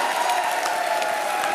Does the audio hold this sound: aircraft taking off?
no